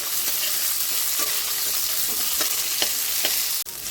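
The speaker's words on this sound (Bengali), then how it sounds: "আদা কুচি, রসুন, শুকনো লঙ্কা, তেজপাতা সব আমি ভেজে নেব" Chopped ginger, garlic, dried red chillies and bay leaves frying in oil make a continuous close sizzle, broken by the light scrapes and clicks of stirring, with no voices.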